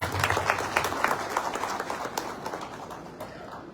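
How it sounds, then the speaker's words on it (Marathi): Hearty audience applause at a foundation inauguration ceremony in Dharashiv, a crowd clapping steadily in dense bursts that slowly thin out and fade toward the end. "या दोन्ही मान्यवर भगिनींसाठी जोरदार टाळ्या."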